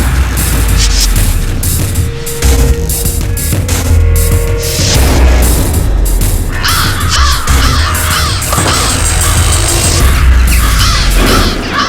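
Many crows caw loudly and continuously, a dense overlapping chorus close by with no talking.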